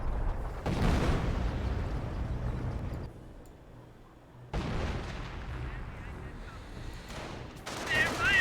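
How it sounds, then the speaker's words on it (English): Battle fire in the strategy game Company of Heroes 1: a loud, dense volley of shots and blasts, a short lull, then another sustained burst of gunfire, with voices heard over it. "They're firing at us!"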